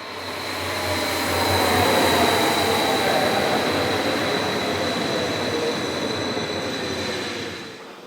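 Electric train 524018 departing Arcisate station for Albate Camerlata, a continuous rolling rumble with a high wheel squeal and motor whine that swells and then fades slightly over the stretch, no talk.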